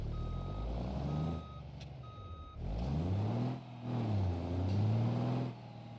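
Reversing beeps from a long truck in the BeamNG.drive driving game, a steady run of evenly spaced high electronic tones over a low diesel engine hum that rises and dips as the rig revs and moves.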